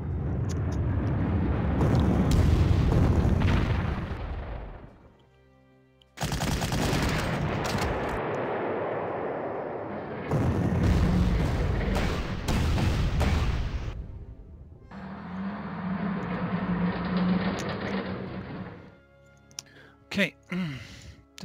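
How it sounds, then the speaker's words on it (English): Artillery and rocket fire in the WWII strategy game Panzer Corps, heavy booming blasts and rumbling barrages arriving in several loud bursts separated by brief gaps, with a sustained mechanical drone in the later stretch. "to hit this engineer over here with artillery and rockets"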